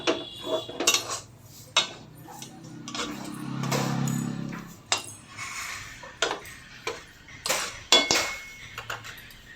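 A metal spoon stirring semolina batter with ghee in a bowl, giving repeated clinks and scrapes in an irregular rhythm, close and fairly clear, with a softer sustained scraping stretch midway.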